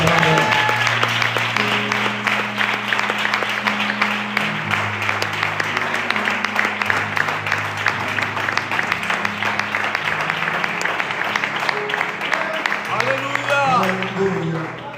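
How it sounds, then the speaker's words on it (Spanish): A church congregation in Valladolid claps loudly and steadily while a held organ or keyboard chord plays underneath, the applause fading slightly near the end. "Fuerte aplauso"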